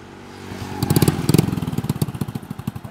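A motorbike in Bohol is kickstarted: after a short scrape, the engine catches and settles into a close, loud, rhythmic putter of idling pulses.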